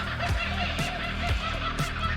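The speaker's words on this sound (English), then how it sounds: "The laughing sound of the kookaburra bird," Kookaburra calling in a city-edge setting in Melbourne, Australia: a series of four loud, repeated honking laugh-like bursts spaced roughly half a second apart over a steady background hum.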